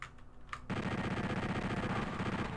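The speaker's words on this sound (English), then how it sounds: "there's a chain gunner shooting at me" A chaingunner fires in PSX Final Doom on the Quarry level: a brief quieter stretch with a couple of faint thuds, then a loud, continuous stream of rapid, evenly spaced shots.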